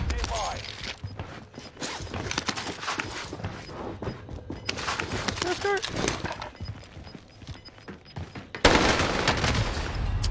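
Bursts of rapid gunfire from a shooter video game, repeated shots and impacts scattered through the clip, mixed under excited talking from a player.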